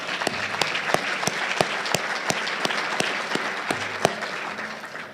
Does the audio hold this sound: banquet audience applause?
yes